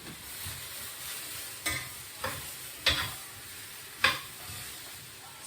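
Goat meat dry-roasting in a pot with onion, ginger, garlic and spices for Caribbean curried goat: a steady close sizzle, broken by a few sharp scrapes and clicks of a spoon stirring.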